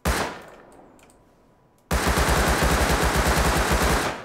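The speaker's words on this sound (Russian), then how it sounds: "Да, Томпсон от стрельбы, конечно, очень шустрый." Thompson submachine gun in the Rust video game firing one sustained rapid burst that cuts in sharply after a near-silent pause, loud and rattling, with no talk.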